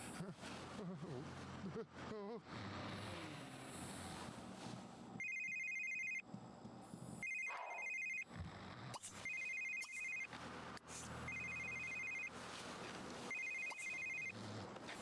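A telephone rings repeatedly in The Sims 3, in short, regular electronic trills separated by brief gaps, with a voice talking over the game sounds at the start.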